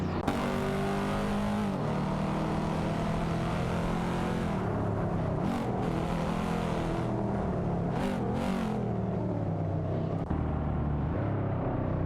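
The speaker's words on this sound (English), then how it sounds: "The battle between Capadeli in the Lexus RCF and Butchie Zero in the Bentley Continental GT 10 for P18 continues to unfold on the track" Racing cars in a video game, a Lexus RC F and a Bentley Continental GT, roar continuously with engines revving and shifting as they battle on track, steady and loud throughout with no talk.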